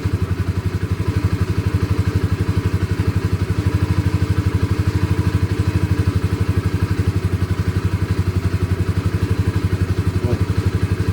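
A motorcycle engine, started after sitting unused for two weeks, runs at a steady idle with an even, rapid thumping pulse and some mechanical clatter, close and loud throughout.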